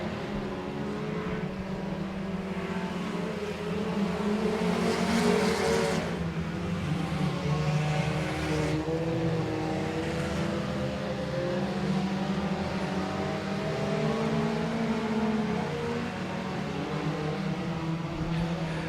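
Stock cars racing at Boothill Speedway make a steady, dense engine roar that holds at a constant loud level throughout, with overlapping motors droning and swelling slightly as the pack circles the track.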